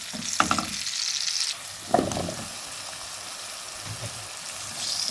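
Fish frying in hot oil in a pan, a steady crackling sizzle with a few louder pops and spits near the start, heard close up with no voices.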